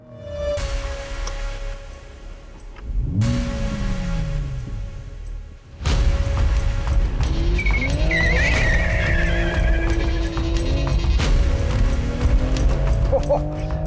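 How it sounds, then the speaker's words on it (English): A Toyota Supra spins its rear wheels under hard launches, with a close, loud engine roar, rising revs and tire squeal across several bursts, and no talking. "If you can light up the rear wheels, that actually surprised me quite a bit."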